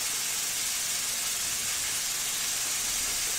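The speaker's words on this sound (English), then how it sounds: "So you can hear my pork chops frying" Pork chops sizzle as they brown in a pan, a steady, close, hissing fry that carries on unbroken with no talking.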